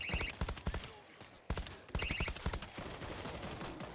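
Gunfire from the zombie shooter game World War Z comes in rapid bursts of sharp close shots with short pauses between them, while a player talks over it.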